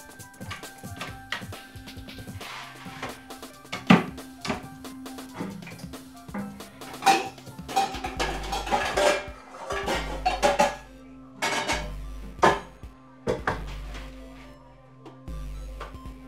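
Dishes, pots and cutlery clink and clatter in a kitchen while mac and cheese is being made, with scattered sharp taps and knocks and occasional low thuds against a quiet background.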